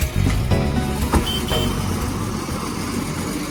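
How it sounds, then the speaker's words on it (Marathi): A bus pulls away from a temporary bus stand in Mehkar on the 3:30 route to Lonar, its engine a loud, steady rumble that fills the whole stretch, with a few sharp clanks early on. "मेहकर ते लोणार गाडी जात आहे 3:30ची"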